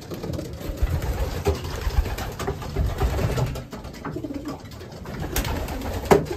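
Racing pigeons coo steadily in a loft as the male birds come back inside, a low, busy murmur of birds close by, with a faint engine hum in the background.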